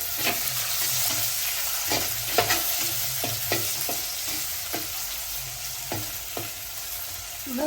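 Onion and chilli fry in a pan as a spoon stirs them, a constant close sizzle broken by repeated scraping knocks at an uneven rhythm, with no voices.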